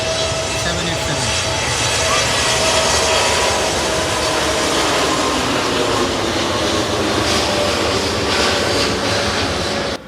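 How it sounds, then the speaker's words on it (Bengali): Engines of a Biman Bangladesh Airlines Boeing 787 roar loudly and continuously at Dhaka airport as the airliner heads into takeoff, a dense sustained rumble with a person talking over it. "বিশাল সাইজের বিমান বাংলাদেশ এয়ারলাইন্স"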